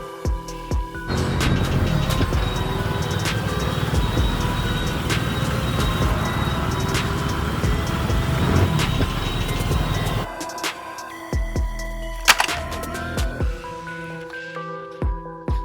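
A tanker truck engine rumbles steadily at close range with broadband noise, then cuts out abruptly, leaving a few scattered clicks and thuds.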